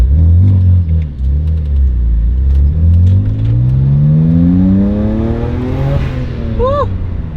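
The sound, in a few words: BMW 335i N54 engine revving with Burger Tuning DCI intake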